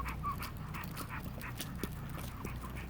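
An excited dog pants rapidly with occasional small whimpers, a steady rhythmic huffing close by, moderately quiet, outdoors at an off-grid property after a hurricane.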